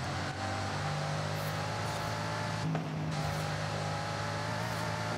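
Steady low engine drone of a 2011 Bugatti Veyron Super Sport in Forza Horizon 5 on a track day, holding a constant hum with a faint tonal whine and slight shifts, no voices.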